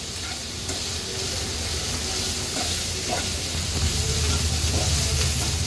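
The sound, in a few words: potato sabzi stir-frying in tempering on high flame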